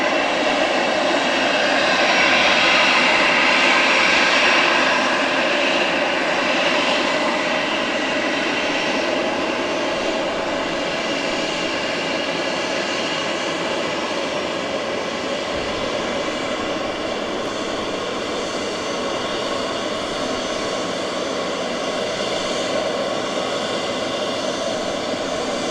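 easyJet Airbus A320 jet engines hum and whine steadily as the airliner taxis to its stand at Southend Airport, a loud, continuous broadband roar that holds for the whole stretch with no voices.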